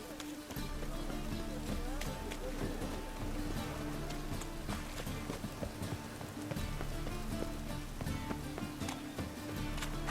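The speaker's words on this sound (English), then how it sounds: "Must be mad running around in this rain." Steady rain in The Witcher 3: Wild Hunt patters and hisses throughout, with footsteps, background music and faint voices layered over the downpour.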